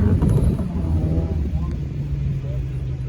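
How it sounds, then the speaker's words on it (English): A 2000 Toyota Celica race car, number 82, launches from the start line at a Daytona Speedway autocross, its engine roaring loud and close with a steady low drone under a talking announcer. "Just took off at the line, number 82 in the Celica"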